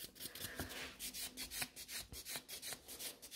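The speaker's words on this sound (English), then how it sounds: "I'm giving a couple scratches to the chrome" A gentle nail buffer is rubbed over a chrome top coat on almond-shaped nails in quick, soft rasping strokes, a faint close scratching rhythm of about a dozen short passes with no voices.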